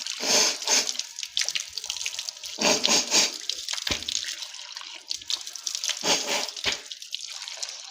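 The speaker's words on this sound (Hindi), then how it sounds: "अब 3 बार हम नाक में पानी डालेंगे।" Water running from a tap and splashing into the hands and nose during ablution, in several short bursts separated by brief pauses, close and moderately loud.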